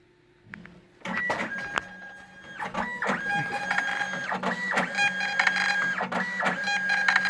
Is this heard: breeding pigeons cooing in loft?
no